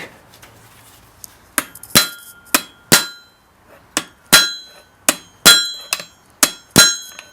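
Cold metal hammered on an anvil: sharp, ringing clangs struck one at a time with short pauses, about a dozen blows, loud and close.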